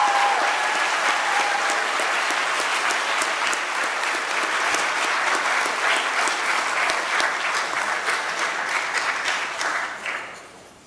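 A school awards-ceremony audience claps for gold-medal and state award-winning students, with sustained, dense applause filling most of the stretch before it thins and fades out near the end.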